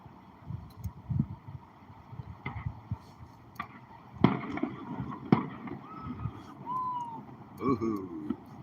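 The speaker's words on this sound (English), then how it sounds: "still hearing some explosions here." Sharp booms and cracks of Fourth of July fireworks go off at irregular intervals in Juneau, Alaska, sounding somewhat distant, mixed with low rumbling and scattered background noise.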